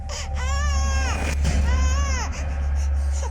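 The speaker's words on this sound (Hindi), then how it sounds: "अरे बच्ची रो रही है" A baby girl cries close by in loud, wailing bursts with rising and falling pitch, over a steady low hum.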